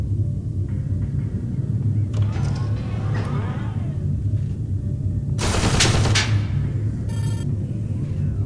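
Automated turret fire in System Shock 2 down a medical-sector hallway, rapid mechanical gunfire bursts with creaking machinery over a steady low hum, one sharp loud burst near the end.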